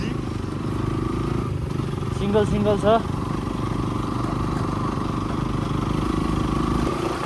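Motorcycles on a friends' group ride from Panchkhal to Sailung rumble steadily at low idle or cruising pace, a continuous close engine drone under a voice speaking over it.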